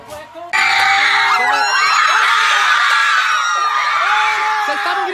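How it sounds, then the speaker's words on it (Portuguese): Schoolchildren on a visit to a village burst into loud, sustained screaming and shouting after a brief moment of quieter sound, a dense crowd of high voices close by and continuing for several seconds. "Vocês estavam gritando o quê?"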